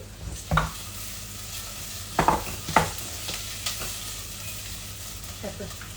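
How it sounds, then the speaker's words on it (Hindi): Chicken seasoned with salt and pepper is stirred in a hot pan for chicken soup, with a steady sizzle under a few sharp scrapes and clinks of the spoon against the pan. "उसको थोड़ा हिलाते रहे प्लीज"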